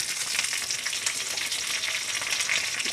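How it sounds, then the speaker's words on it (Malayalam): Curry leaves dropped into shallots frying in oil for a fish curry tempering give a loud, steady crackling sizzle that fills the whole moment, close and continuous, with no voices. "ഉള്ളി മൊരിഞ്ഞു അപ്പോൾ അതിൽ വേപ്പിൻ്റെ ഇല ഇടുന്നു"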